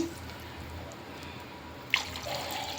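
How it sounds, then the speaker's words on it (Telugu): Water goes into a pot for jeera rice, a faint quiet stretch broken near the end by a sudden splash and then a steady pouring gurgle, with no one speaking. "నేను బియ్యం తగ్గట్టు వాటర్ వేసుకుంటున్నాను"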